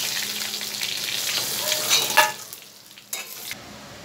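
Pieces of boal fish sizzle hard in hot oil in a wok, giving a steady, crackling fry with a couple of louder sputters and clinks toward the end. There is no talking.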